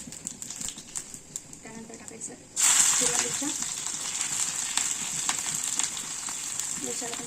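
Cumin and mustard seeds hit hot oil for a dhokla tempering, bursting into a loud, steady crackling sizzle after a quieter start, with dense popping continuing to the end.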